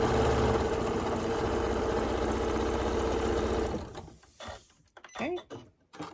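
A sewing machine stitches a pumpkin patch table runner with a steady, loud mechanical whir for several seconds, then stops, leaving brief handling noises and a few scattered knocks.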